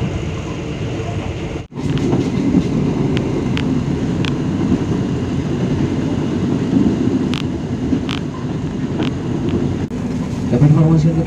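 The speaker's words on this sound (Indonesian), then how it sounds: "kereta api Singasari akan tiba di stasiun Jatinegara" A KA Singasari passenger train runs on rails near Jatinegara, Jakarta, after leaving Bekasi, giving a steady close rumble with a brief dropout near the start and scattered clicks and knocks throughout.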